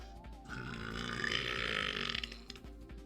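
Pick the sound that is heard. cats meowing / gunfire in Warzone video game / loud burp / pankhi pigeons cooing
loud burp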